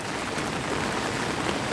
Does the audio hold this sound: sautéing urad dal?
no